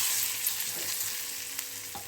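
Sweet potatoes fry in ghee inside a pot that is being tossed, giving a soft, continuous sizzle with a few faint shuffling knocks, heard alone and fairly quiet.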